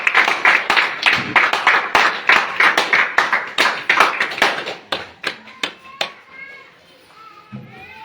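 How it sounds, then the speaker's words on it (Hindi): Applause welcoming a guest onto a stage at an event, rhythmic crowd clapping, loud and steady at first, then thinning to a few scattered claps, with voices heard near the end. "उनके लिए एक जोरदार ताली के साथ।"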